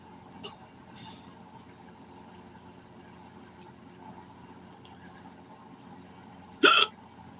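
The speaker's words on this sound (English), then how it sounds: "I don't want the whole fucking stream to be talking about my hiccups." One sharp, loud hiccup bursts out near the end after several seconds of quiet room hum with a few faint clicks.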